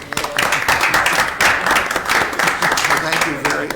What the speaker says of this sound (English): So I'd like a round of applause for Mr. Maestri.